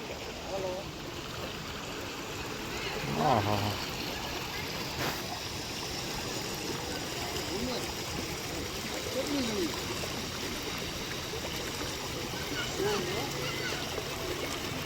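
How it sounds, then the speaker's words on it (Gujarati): Steady broadband rush of rain floodwater streaming along a waterlogged road in Surat, continuous and fairly close, with occasional faint voices and small splashes. "ત્યાં પાણીનો ભરાવો જુઓ એટલું પાણી આમ આવે છે"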